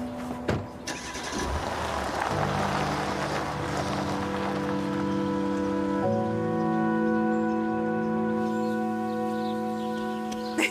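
A jet ski idles and revs on open water, its steady engine drone holding several sustained tones that shift in pitch partway through, fairly close and loud with no talk over it.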